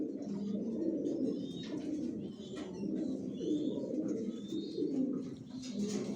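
Racing pigeons in a loft coo softly and continuously, with low, rolling, overlapping calls and occasional faint chirps.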